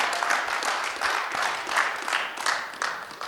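Light applause from a small audience at a recovery support group meeting, scattered claps rippling for a few seconds, fairly faint and distant.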